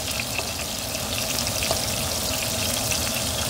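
Precooked bacon warms in a pan with a steady, close crackling sizzle, a continuous bright fizz with scattered small pops and no voices.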